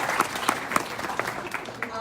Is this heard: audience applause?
yes